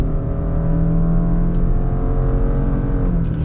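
A 2021 Subaru Outback engine held at full throttle gives a steady droning hum from inside the car, loud and even, with no clear rise in pitch and no voices.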